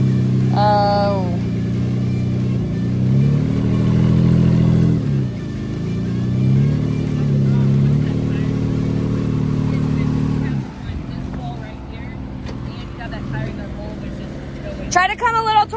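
A rock crawler's engine strains and revs while it climbs over rocks in Billings Canyon, Colorado, a loud close drone that rises and falls in pitch, with people talking over it.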